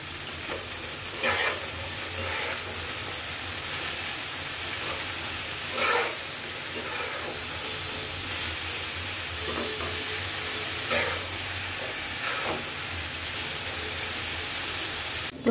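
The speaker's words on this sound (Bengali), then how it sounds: "তেল গরম করে নেওয়ার পর কেটে রাখা ঢ্যাঁড়স আর আলুগুলো দিয়ে দিলাম" Okra and potatoes fry in hot oil with a steady, close sizzle throughout, broken by several brief stirring scrapes.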